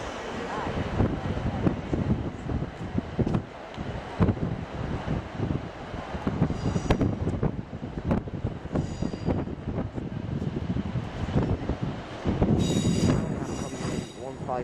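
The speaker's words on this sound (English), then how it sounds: "we have a train departing for Ilkley, class 333" A Class 333 electric multiple unit pulls out of Leeds station for Ilkley, its rolling rumble and wheel squeal steady throughout with wind buffeting the microphone and a brighter squeal rising near the end.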